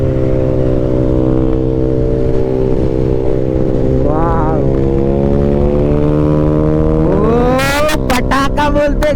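A modified Bajaj Pulsar N160 motorcycle exhaust while riding: a loud, steady engine drone climbs in pitch as it revs, then breaks into a rapid burst of crackling pops.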